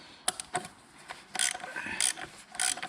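A ratchet clicks in short bursts, tightening an oil filter cap on a diesel engine near the glow plugs and fuel pipes. The close mechanical ratcheting comes in three or four quick pulls.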